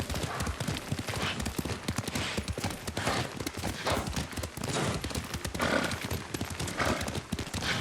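Horse hooves clip-clop steadily at a riding pace in the Ghost of Tsushima video game, with a brief whinny and faint distant gunfire-like bursts behind the continuous hoofbeats.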